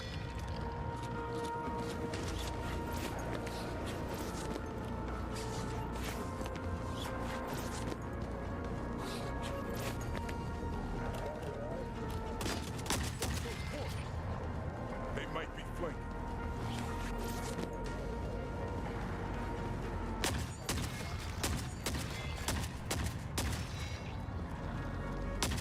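AA-12 automatic shotgun in The Forever Winter, repeated loud blasts firing in bursts amid constant battle noise, with a voice talking over much of it.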